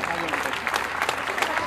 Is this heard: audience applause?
yes